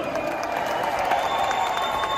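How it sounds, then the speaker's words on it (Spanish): Festival crowd at a Salvadoran festival in Houston clapping and cheering, a continuous busy roar of applause with crowd noise throughout. "Si la hizo bien, denle un aplauso."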